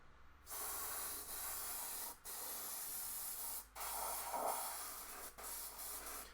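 Matte varnish hisses from a spray can onto a model tank in short, steady bursts separated by brief pauses, close and fairly even in loudness with no voices.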